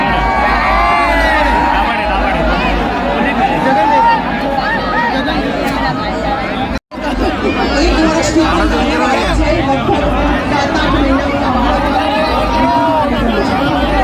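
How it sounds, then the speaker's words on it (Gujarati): A dense crowd at the Kankaria Carnival chatters loudly and continuously, with overlapping voices and occasional shouts forming a steady babble, briefly cut off by a short break in the middle. "આમ કાંકરિયા કાર્નિવલની ભીડ એટલી વધી ગઈ હતી"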